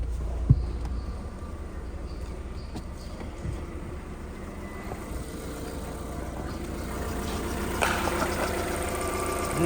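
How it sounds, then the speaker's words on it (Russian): A VW Golf 4 with a 1.6 AZD petrol engine idles in a quiet, steady mechanical hum, with a few faint clicks and knocks; no one speaks. "Мотор работает ровно."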